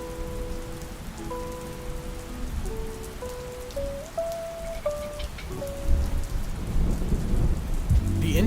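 A rainstorm with thunder: steady rain patters on a surface while low rumbles build toward the end, under a soft melodic tune of sustained tones.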